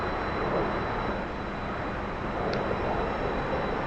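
Steady jet engine roar from a T-45 trainer under throttle in the DCS flight simulator, a continuous broadband drone holding level throughout with no voices.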